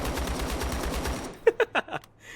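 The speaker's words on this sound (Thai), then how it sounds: "โอ้โหได้เสียงปืนปองแปะปองแปะเนี่ย" Video-game gunfire in a Black Hawk Down–based shooter. A rapid, even burst of automatic fire is followed by a few separate louder shots, all fairly close, with no talking over them.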